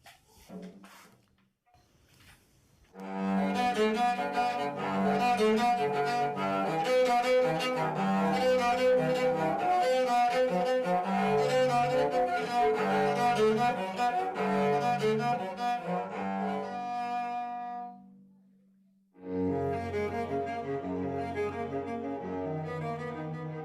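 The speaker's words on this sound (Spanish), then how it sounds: "Este cello está hecho de una lata de aceite," A homemade cello built from an oil can plays a sustained, resonant bowed melody with a slightly tinny, boxy tone, pausing briefly before resuming; no voices.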